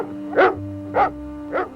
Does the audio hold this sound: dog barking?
yes